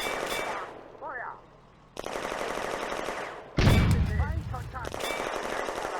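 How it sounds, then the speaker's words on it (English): A Panzer III firing an HE shell in the war game Firefight, set on the Eastern Front in 1941: a loud blast bursts out near the midpoint amid bursts of gunfire, with brief gaps and voices mixed in. "Lieutenant Thomas's Panzer III destroys a 45mm anti-tank gun by HE shell"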